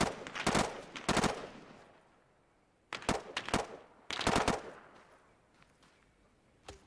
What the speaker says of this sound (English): Are you guys shooting at that Humvee?